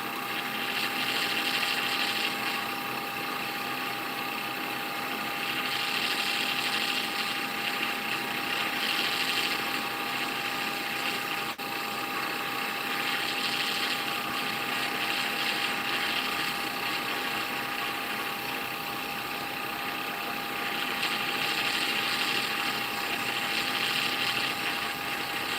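A wood lathe spins at higher speed while a piece is rubbed with friction polish, giving a steady mechanical whir with a faint rhythmic rubbing swell that rises and falls every few seconds.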